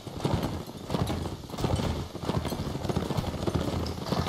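Horse hooves galloping in a Civil War battle video game, a fast, steady clip-clop rhythm that is loud and continuous over a busy background.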